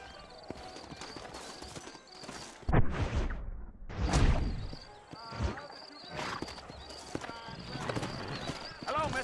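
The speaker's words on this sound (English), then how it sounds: "You ain't gonna find sturdier horses than these" Horses clip-clop in the video game Red Dead Redemption, rhythmic hoof beats on dirt close by, with a whoosh, a brief whinny and characters speaking over the steps.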